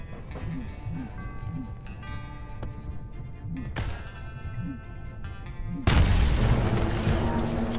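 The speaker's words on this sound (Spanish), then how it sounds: "Me pegué un balazo." A gunshot in the VR shooter game Just in Time VR goes off as one sudden loud blast late in the clip, following quieter game sounds and soft rhythmic thumps.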